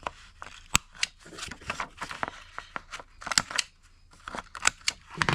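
Sharp repeated snips of scissors trimming the edges of glued book pages while the glue is still slightly wet, crisp close cuts coming in irregular clusters with short quiet gaps, no voices.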